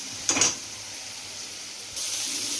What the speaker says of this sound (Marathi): आता आपण हे छान लसूण आलं लसूण आणि हे गरम मसाला ह्याच्यावरती परतून घेऊया